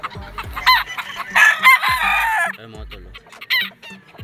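Gamefarm roosters crow and cluck close by, several overlapping crows rising in a loud burst with sharp clucks between them, while someone speaks briefly.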